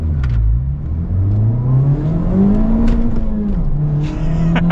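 A first-year Honda Civic Type R at full throttle, engine pitch rising steadily through the revs, dipping once on a gear change and climbing again, loud and close inside the cabin.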